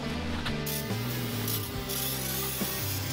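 A continuous hissing spray of cleaner on an AMC Rambler transmission pan, close up, steady for several seconds over a low, shifting mechanical drone.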